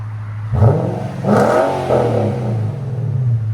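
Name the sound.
V8 car exhaust revving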